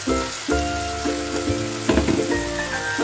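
Dried squid hits a hot pan for adobo and sizzles loudly and steadily, the crackling frying noise starting abruptly and carrying on over a few bursts of movement in the pan.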